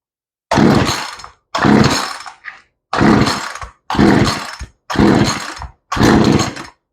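Chainsaw with a newly replaced carburetor, choke pulled out, being cranked to start: six loud, close bursts of rough engine noise, each cut short by a silence, without settling into a steady run.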